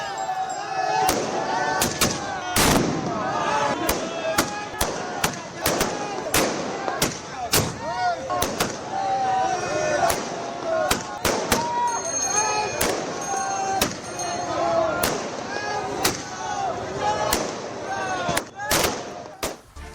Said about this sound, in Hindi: लेकिन यहां पर अयोध्या में आतिशबाजी हो रही थी।